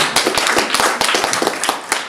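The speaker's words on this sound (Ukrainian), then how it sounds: "Плескайте долоні, поети це люблять." An audience claps at an underground poetry battle: dense, steady applause of many hands, close and fairly loud, running through the whole short stretch without voices.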